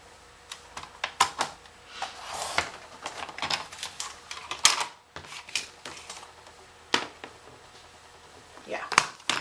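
Paper trimmed to size for a card front with a paper trimmer gives a run of irregular clicks, taps and short slicing strokes up close, with a voice talking over the crafting.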